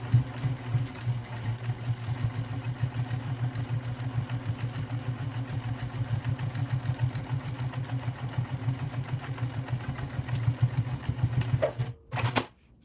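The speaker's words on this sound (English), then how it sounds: "So let's head over to the sewing machine." A sewing machine runs steadily, top stitching a bag made from two fabrics, with a close, rapid rhythmic needle clatter over a motor hum that stops abruptly near the end.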